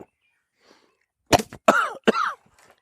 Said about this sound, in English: Coughing on the cold draw there, huh?